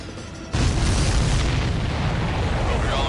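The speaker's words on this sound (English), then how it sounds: "The missile hit the supply ship dead on." A missile strikes a supply ship in the flight combat game Ace Combat 7, setting off a sudden loud boom after a short quiet lead-in, then a heavy sustained rumbling roar.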